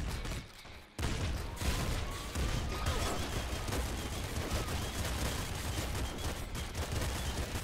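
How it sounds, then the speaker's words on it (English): Shotgun fire in the game Nuclear Throne, a dense loud barrage of repeated blasts after a short quieter opening, continuous and close with no clear pauses. "Like an uber double barrel shotgun, this."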